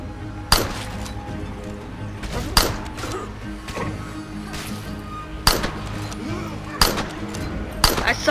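Gunfire in the zombie survival video game State of Decay: about six sharp, loud shots at irregular intervals over a steady in-game background hum.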